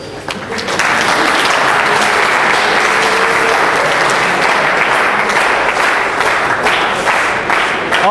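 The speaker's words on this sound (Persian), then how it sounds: "خودتون رو تشویق کنید." A class of students at a kinematics lesson breaks into loud, sustained applause, a dense crowd of clapping hands that begins abruptly and holds strong for several seconds with a few voices beneath.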